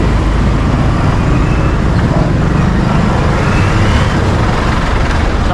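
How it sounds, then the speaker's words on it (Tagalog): Steady roadway noise from a congested street during the school-start rush, cars, buses and trucks rumbling past continuously at close range, loud and dense with no pauses, and no talk over it. "Traffic na dito kasi yung start na yung ano ng mga bata sa school."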